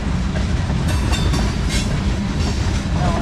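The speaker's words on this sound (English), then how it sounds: "The trains have gone by" Trains rumble past on a Norfolk Southern freight line running toward Cincinnati's Queensgate Yard in Kentucky, a loud, continuous roar of rolling wheels and rail clatter up close.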